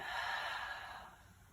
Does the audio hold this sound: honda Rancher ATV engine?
no